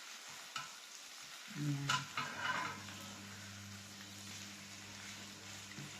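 An egg omelette with tomato and onion fries in a pan on a camping stove, giving a steady sizzle with a brief louder stir or flip near the start; a voice speaks once.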